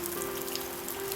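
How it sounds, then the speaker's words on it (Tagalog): Steady rain falls, a dense close patter of drops on surfaces, with a faint constant hum running underneath. "Umuulan kasi."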